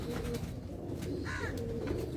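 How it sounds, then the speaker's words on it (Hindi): Pigeons at a Lahore loft coo softly in the background, a low steady burble with a short brighter call midway, faint and without talk. "ये देखें जी कितना ही शानदार कबूतर है"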